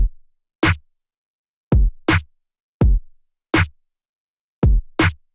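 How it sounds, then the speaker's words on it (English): A GODHAND-style drum beat programmed in FL Studio: loud, punchy kick and snare hits in a sparse, uneven pattern, each with a short high tick, played alone with clean silence between them. "Your drum beats should sound something like this"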